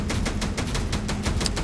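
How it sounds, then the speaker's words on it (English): Gunfire crackles in a rapid series of sharp bursts, about a dozen evenly spaced shots over a steady low rumble, heard without any talking. "Come back to a lot of gunfire."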